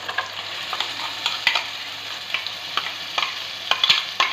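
Spice masala stirred into frying onions for chicken curry, with rhythmic spatula scrapes and knocks against the pan over a constant sizzle.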